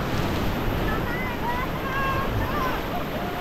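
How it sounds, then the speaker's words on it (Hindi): Whitewater rushes in a steady, loud churn on a Ganges rapid during rafting, with wind buffeting the microphone and voices calling faintly under the roar of the water. "अभी आप लोग का रैपिड आ गया"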